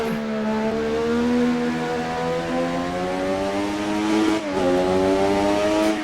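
A turbocharged Formula 1 car in Assetto Corsa, its engine droning loud and close at Suzuka, holding a steady high pitch that rises slowly, dips briefly at a gear change, then keeps climbing.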